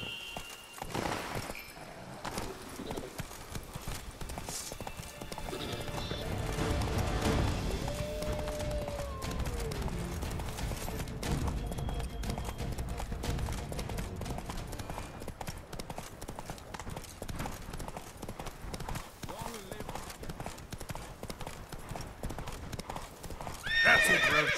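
Roach, the horse in The Witcher 3, gallops in a rapid clip-clop of hooves with a whinny, steady hoofbeats rolling on for about twenty-five seconds, louder toward the end and with no speech.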